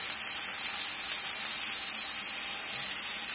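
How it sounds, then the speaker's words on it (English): Country ham frying in a skillet gives a steady, close, even sizzle and hiss with no pauses, a bright wash of frying noise and no voices. "I want this to fry up in here until a nice crust and fond build up on the bottom of this skillet"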